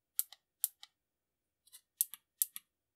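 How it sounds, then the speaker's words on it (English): Small dome switches inside a Wico Command Control trackball joystick click as they are pressed, giving three pairs of sharp, close plastic clicks with short gaps between them in near silence. "it pushes down these little dome switches. You should be able to hear them click there."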